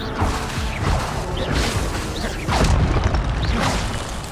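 Levioso spell cast in the Hogwarts Legacy video game: dense magical whooshes and booming bursts sweep through busy game ambience, with a few distinct swells and a louder surge partway through.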